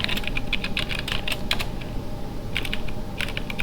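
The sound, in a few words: typing on a computer keyboard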